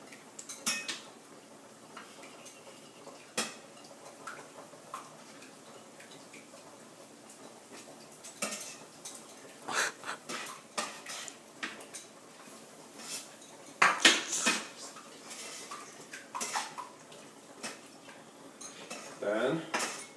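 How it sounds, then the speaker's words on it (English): Two eggs are cracked into a bowl and beaten, heard as scattered clinks and taps of utensil on dish that build into bursts of quick rattling whisk strokes, close and fairly quiet. "we're going to crack both the eggs in a bowl. And whisk it until they're beaten."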